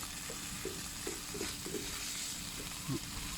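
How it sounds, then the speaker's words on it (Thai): Shrimp and holy basil stir-fry in a flat pan with little water, giving a soft steady sizzle with faint scraping stirs, quiet and close. "ยายก็จะผัดที่น้ำไม่เยอะนะ"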